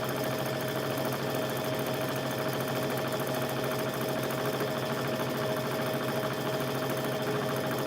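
A push-button sewing machine stitches a quilt with a continuous, fast mechanical whir and rattle. The sound holds steady and close, with no talking.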